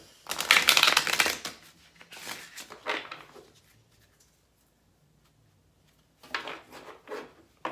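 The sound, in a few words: tarot cards being shuffled and drawn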